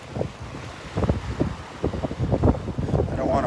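Wind gusts buffet the microphone on a Gulf beach at Delnor-Wiggins, producing uneven low rumbling bursts that rise and fall over a faint background wash.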